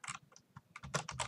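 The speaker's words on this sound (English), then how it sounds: "you press skull owner, enter, double click, and you type in someone's name" Quick bursts of computer keyboard typing while entering a player's name during Minecraft play, a run of close, crisp key clicks that grows denser and louder toward the end.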